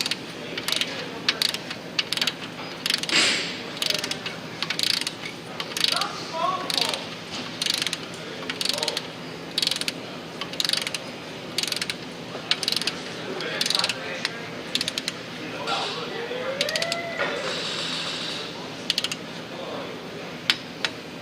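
A wrench tightens the outer tie rod end castle nut on a 2003 Chevy Malibu with a steady run of close, crisp ratcheting clicks in a regular rhythm, and no talking.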